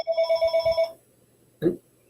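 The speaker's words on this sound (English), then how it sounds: "Heard a phone ring." A telephone bell rings in one short burst of rapid pulses, fairly close and clear, followed by a brief muffled knock or voice after a pause.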